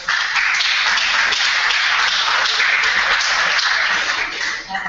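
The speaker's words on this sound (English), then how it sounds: "I hope you could hear the applause." Audience applause after a lecture at a conference in Lecce: steady, dense clapping from many hands that fills the whole stretch, evenly loud and slightly muffled, easing a little at the end.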